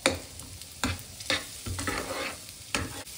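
A filling of finely chopped boiled potato and coriander is sautéed over raised heat, with a soft sizzle broken by repeated close scraping stirs in an uneven rhythm. No one speaks.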